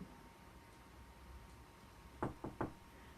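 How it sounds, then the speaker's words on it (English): Three sharp knocks on a door, fairly close and distinct, landing in quick succession near the end after a stretch of quiet room hiss. "3 knocks on the door"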